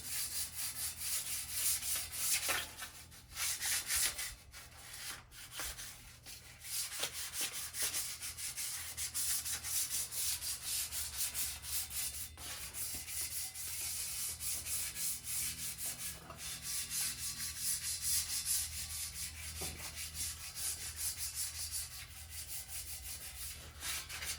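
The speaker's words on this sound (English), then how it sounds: "A light sanding gives it tooth." Steady, continuous light sanding of a painted surface, a dry abrasive rubbing that carries on evenly with brief pauses, close up and moderately loud, with no voices.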